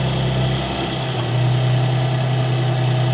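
A car engine idles steadily and loudly up close during purge valve solenoid work, with a constant low hum that deepens slightly partway through.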